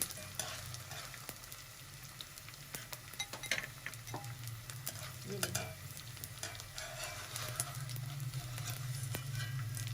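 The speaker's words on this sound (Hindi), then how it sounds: "सारी गोंद इसी तरह हम फ्राई कर लेंगे।" Edible gum (gond) fries in hot ghee with a steady, even sizzle and crackle throughout, broken by occasional light clinks of a stirring spoon, with no talking.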